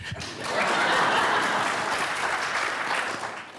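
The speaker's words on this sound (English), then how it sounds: "you can clap this" Audience applause at an annual luncheon panel, a steady burst of many hands clapping that swells quickly and holds for a few seconds before tapering.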